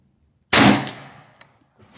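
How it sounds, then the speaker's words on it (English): A single shot from an AEA Max HP .357 compact big-bore airgun fired without a silencer: one sharp, loud crack that decays over about a second, followed by a faint click. "I am not shooting with the silence or the LSDC, and I am single loading just to prove the gun's accuracy"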